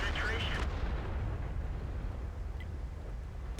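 A tank cannon fires a shell in a World of Tanks-style tank battle game, a heavy boom at the start that sinks into a loud, steady low rumble of engine and battlefield noise.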